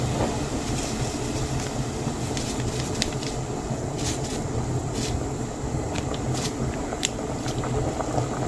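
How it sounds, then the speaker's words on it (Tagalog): A pot of ginisang upo boils on the stove, making a steady bubbling rumble with light clicks and pops scattered throughout. "Ang kulo na"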